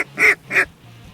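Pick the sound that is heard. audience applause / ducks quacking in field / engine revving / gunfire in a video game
ducks quacking in field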